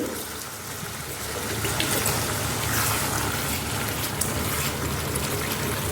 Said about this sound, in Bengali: এরপরে দিয়ে দেবো পরিমাণ মতন পানি